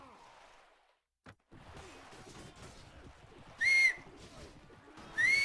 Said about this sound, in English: I always forget that I can whistle for my horse in some mods.